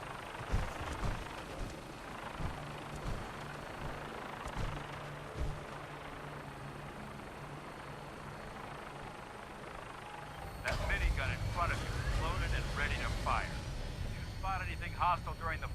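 An aircraft flies in Fallout 4, giving a steady low engine and rotor drone throughout. Game voices talk over it, and the drone grows louder and fuller in the last few seconds.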